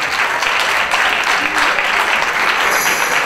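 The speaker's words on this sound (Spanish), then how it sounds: "¡El aplauso!" Steady, dense applause from a crowd at the San Buenaventura University campus festival awards announcement in Medellín, loud and continuous throughout with no pauses.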